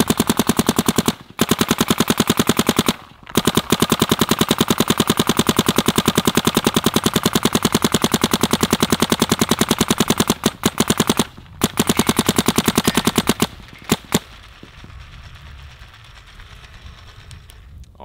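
A Planet Eclipse Geo R5 paintball marker fires at 4,500 PSI in a loud, rapid machine-gun stream of shots broken by a few brief pauses, ending abruptly with some scattered pops and quiet.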